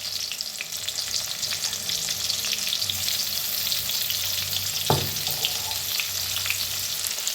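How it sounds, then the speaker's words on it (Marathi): Crushed garlic pounded with salt fries in hot oil, a dense continuous sizzle close up, with a brief stirring scrape partway through. "त्याच्यात टाकूया लसूण आणि चेचून घेतलेलं बारीक असं"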